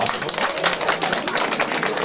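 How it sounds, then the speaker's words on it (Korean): Online town-hall audience giving a table a brief round of applause, a dense patter of claps that lasts about two seconds, heard close and fairly loud. "놀이가 마무리된 테이블을 박수 한번 쳐주시기 바랍니다."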